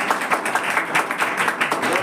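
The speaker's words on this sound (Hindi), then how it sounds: "जोरदार ताली एक बार हो जाए।" Students and teachers at a Republic Day school celebration clap in a brief, lively burst of applause with audible individual hand claps, fairly close and loud.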